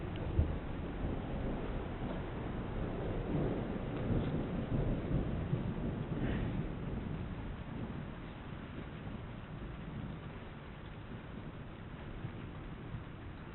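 Thunder rolls from a winter thunderstorm, a low, drawn-out rumble at moderate distance, swelling and fading over several seconds amid faint wind noise, with no talking.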